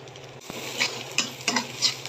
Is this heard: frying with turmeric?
yes